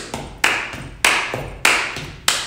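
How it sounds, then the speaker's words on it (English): Children keep a steady stomp-clap rhythm, with alternating softer foot stomps and sharp hand claps repeating about every half second, close and crisp, with no talking. "stomp your feet and then clap your hands"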